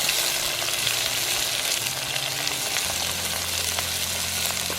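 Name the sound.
chopped onions and curry leaves frying for pork curry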